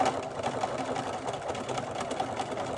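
A sewing machine runs steadily, stitching the seams of a handmade glove with a continuous, even whirring buzz at close range.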